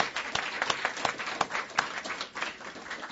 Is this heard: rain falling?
no